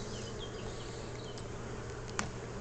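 Honeybees in a crowded, swarm-ready top bar hive give off a soft, continuous buzz, faint and steady, with a single brief click near the end.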